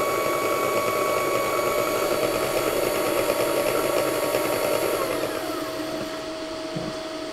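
A Nespresso Barista machine whisks chocolate and milk at speed with a steady high-pitched motor whine and a faint whir, which slows and fades toward the end.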